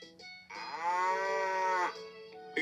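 A recorded cow moo from a VTech Genius Kid toy laptop, French Canadian edition: one long, loud, sustained electronic bellow played alone through the toy's small speaker, with brief quiet moments before and after.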